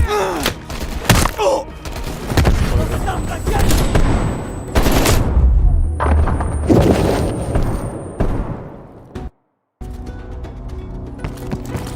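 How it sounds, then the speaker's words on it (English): Gunfire and heavy blasts from a grenade battle in Call of Duty: Black Ops Cold War, with dense bursts, booming thuds and loud rapid shots filling most of the stretch before a brief silent gap. "Incoming grenade!"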